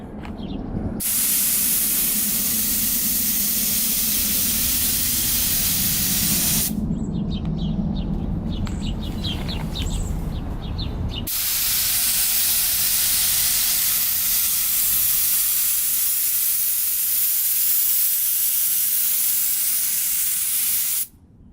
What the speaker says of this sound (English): it's a lot of overspray